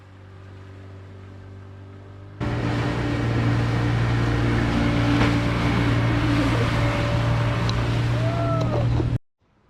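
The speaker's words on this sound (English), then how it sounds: "we decided it was a good time to test out one of the boards John gave us behind his dinghy" A motor dinghy runs steadily on open water while towing a rider on a board, its engine droning loud and close with wind and water rush, beginning abruptly after a quieter idle and cutting off near the end.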